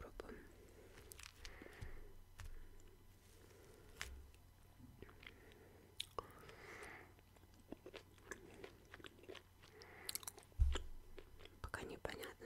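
Sushi rolls with cucumber, cream cheese and fish being chewed close to the mic, soft repeated bites and wet crunchy mastication with a few sharper clicks, quiet and intimate throughout.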